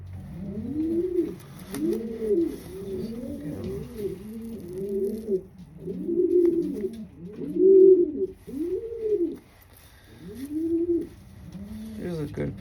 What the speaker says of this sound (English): Here's a good pigeon.